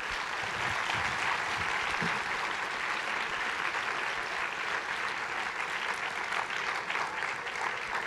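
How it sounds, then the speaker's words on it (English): A high school audience applauds its guests at the close of a moderated session, sustained even clapping from many hands filling the room, with a few louder claps near the start. "If we could just have one more round of applause for our guests."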